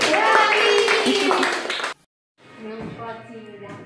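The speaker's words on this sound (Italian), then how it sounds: "Fate un applauso." Audience clapping at a festival concert after a sung chant, loud and busy for about two seconds, then a brief silence before softer crowd noise and voices return.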